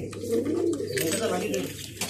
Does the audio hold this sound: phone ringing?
no